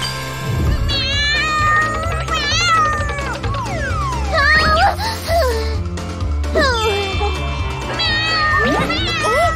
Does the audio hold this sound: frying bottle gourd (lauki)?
no